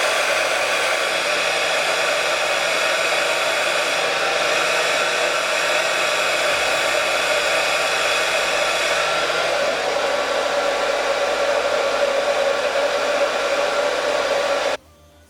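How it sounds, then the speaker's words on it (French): A hair dryer on its cold setting blows steadily with a constant whirring hum for about fifteen seconds, then cuts off abruptly. "Et je prends mon sèche-cheveux, position froid."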